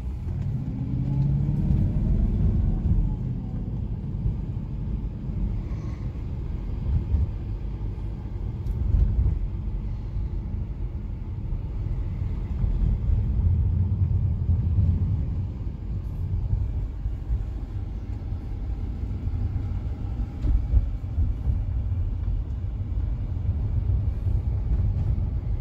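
A 2006 Bentley Arnage T picking up speed, its engine a deep, steady rumble heard from inside the car with road noise that swells and holds for nearly half a minute.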